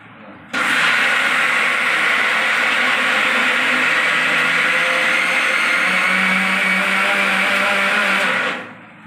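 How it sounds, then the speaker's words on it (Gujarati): A kitchen mixer grinder crushes soaked lentils and rice, starting abruptly and running as a loud, steady whirring roar for about eight seconds before winding down. "જો મિત્રો મિક્સરમાં હવે ક્રશ કરી દઈએ આના."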